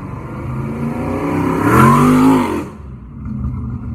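Car engine revving loudly and close, rising to a peak around the middle and then dropping off abruptly, with lower idle engine noise continuing afterward.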